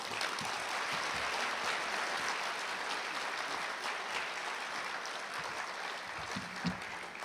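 An audience at a 50th anniversary NEH/NEA celebration applauds to welcome a speaker to the stage, a full, even round of clapping heard at moderate distance that lasts the whole stretch.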